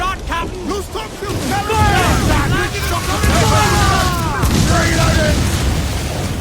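Naval battle in Assassin's Creed 4 Black Flag with mortar fire: continuous booming explosions and cannon blasts under shouting crew voices and tonal calls, dense and loud throughout.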